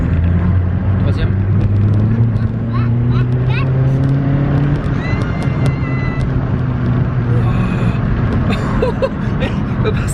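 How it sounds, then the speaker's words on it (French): A Cupra TDI diesel car, long unused, accelerating hard in third gear, its loud engine drone rising steadily in pitch, with people talking over it inside the car. "Ça fait 2 ans qu'il a pas accéléré avec la voiture."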